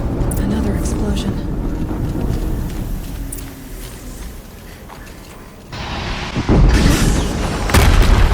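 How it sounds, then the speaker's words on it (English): A deep explosion booms in the video game Horizon Zero Dawn, heavy low rumble rolling over continuous ambient game noise, with a louder blast surge toward the end. "Another explosion."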